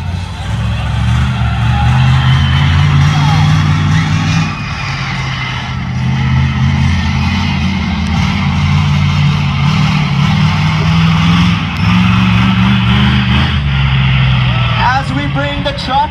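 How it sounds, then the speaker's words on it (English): Monster truck engine at a Record Breaker show at the Florida State Fair, a loud steady roar that swells and eases through a ride, with crowd and PA noise mixed in. "it's time to go for a ride on the monster truck"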